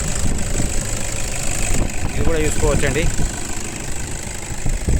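A 2016 Toyota Innova 2.5 V diesel engine idles in a used-car setting, a steady close mid-low rumble under a man's speech.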